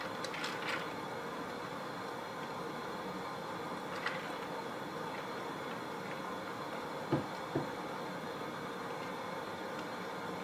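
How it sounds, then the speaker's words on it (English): A food processor grinds sunflower seeds with a steady, even mechanical whir and a few faint clicks and knocks, running alone without talk. "we're gonna get our trusty food processor right here. I am going to put in the sunflower seeds"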